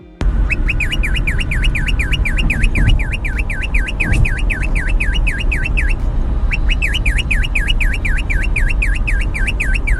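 A cockatiel's shrill, electronic-sounding car alarm imitation: rapid repeating warbling sweeps, loud and close, pausing briefly midway before resuming.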